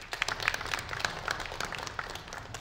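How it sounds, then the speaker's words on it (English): Audience at a wellbeing and culture forum on art and architecture gives a guest speaker a round of applause, a faint, dense patter of clapping lasting a couple of seconds with no talk. "So big round of applause for Olaf Blanke and his participation."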